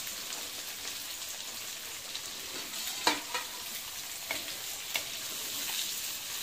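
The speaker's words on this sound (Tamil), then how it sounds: "இதெல்லாம் போட்டு எண்ணெயில் நல்லா வதக்கிக்கிட்டு இருக்காங்க" Dried chillies, garlic, ginger and onions sautéing in hot oil for tomato thokku, a soft continuous sizzle and crackle with occasional sharper pops and stirring clicks, fairly quiet and close.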